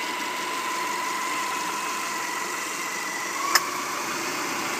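Steady, smooth 2006 Subaru Forester engine idling with an even hum and no knocks, plus one brief sharp click near the end.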